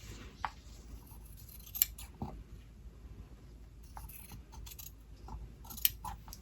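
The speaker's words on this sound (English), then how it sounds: "So I'm just going to cut across." Scissors cutting across fabric during paper-piecing quilt work, heard as a handful of close, crisp snips and blade clicks spread out over several seconds with soft handling in between.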